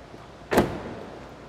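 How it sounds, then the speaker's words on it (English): A car door on a 1999 Shelby Series 1 shuts with a single short thud, close by, with quiet cabin air before and after. "Sorry, I gotta close this door."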